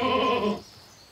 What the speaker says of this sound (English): it's the sound of a goat that is frustrated at being isolated from other goats